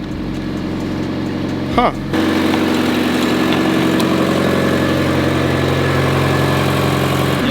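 A Mazda Miata barn find that sat unused for three years idles steadily and fairly loud after its first start, with a brief bump in the sound near the start and a short spoken exclamation over the engine.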